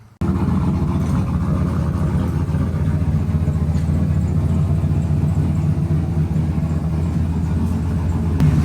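A turbocharged OBS Ford drift truck runs on a dyno, a steady, heavy engine rumble that holds loud and close after a brief quiet start, with no talking.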